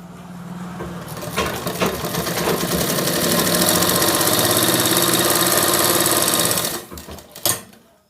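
A sewing machine stitches around the edges of a fabric face mask, its motor building into a fast, steady mechanical whirr for several seconds close up, then stopping with a few clicks.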